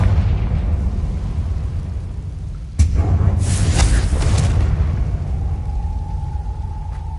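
The Confringo fire spell explodes in the video game Hogwarts Legacy with a sudden loud blast, followed by crackling debris and a low rumble over a steady droning ambience, and a thin sustained tone rises near the end.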